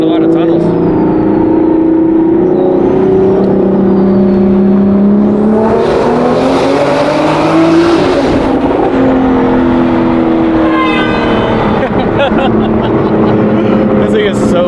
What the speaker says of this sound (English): Get a little rolling throttle under this tunnel.